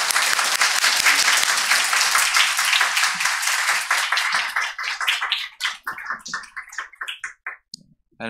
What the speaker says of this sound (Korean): 큰 박수로 환영하도록 하겠습니다